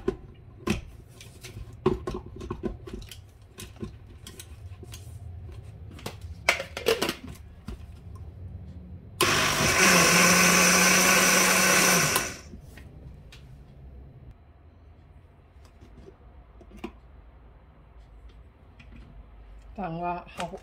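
A loud electric blender roars into a steady grinding whir for about three seconds while grinding batter for Thai khanom khrok, then cuts off, with scattered kitchen clatter and clicks before and after.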